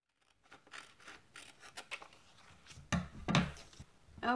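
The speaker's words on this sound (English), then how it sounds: "next I'm going to cut out the picture" Scissors cut out a paper picture, giving a series of quiet, close, irregular snipping and rustling strokes with a couple of louder cuts near the end.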